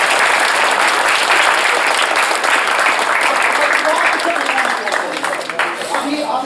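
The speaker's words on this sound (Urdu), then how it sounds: "اپنے لیے تالیاں بجائیے" An audience claps for itself during a leadership song session, a dense, steady burst of applause that carries on throughout and thins slightly near the end.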